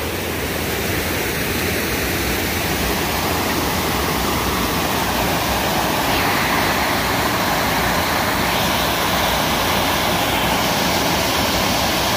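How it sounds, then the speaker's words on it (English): Water from a fairly clear creek running past lakeside houses at Lake Ripley, Minnesota, makes a steady, loud broadband rush that continues unbroken for the whole stretch, with no voices over it. "they also have the creek running right by their house"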